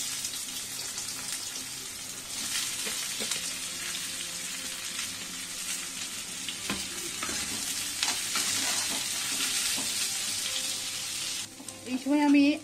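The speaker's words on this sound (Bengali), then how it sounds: "কুকিং অয়েল দিয়ে আমি এখন পেঁয়াজগুলো ভেজে নেব" Onions frying in a little cooking oil for mutton korma, a continuous hissing sizzle with soft scraping stirs, steady and close, swelling into a louder burst near the end.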